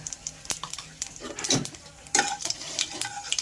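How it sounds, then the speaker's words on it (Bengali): Crackling sizzle of nigella seeds hitting hot oil, with sharp clicks and a spoon stirring in a pan, close and moderately loud, no talking. "তেলটা গরম হয়ে গেছে। কালো জিরে আমি দিয়ে দেব।"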